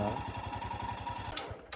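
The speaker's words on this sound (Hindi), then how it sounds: "ये देखो, जेसीबी की खुदाई चल रही है।" Rapid mechanical chugging of a JCB excavator's diesel engine digging steadily in the distance in Ladakh, a fast regular throb with a couple of brief sharp hisses near the end.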